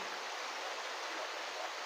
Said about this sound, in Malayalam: മഴ പെയ്യുന്ന ഒരു കോട്ടയാടാണിത്